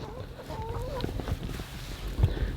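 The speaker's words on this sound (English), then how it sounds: "There's Mary, our meat chicken right there." A Murray's Big Red Broiler meat chicken on a family farm clucks in short soft bursts, close but fairly quiet, with light background farmyard sound.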